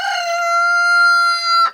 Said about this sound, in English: We raised this guy from a few days old chicken.